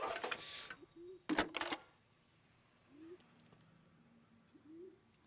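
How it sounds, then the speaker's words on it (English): Pigeons coo in a city street scene in the video game L.A. Noire, soft short rising calls repeated three times in the background, after a few loud clicking and rustling bursts at the start. "I actually hear the pigeons."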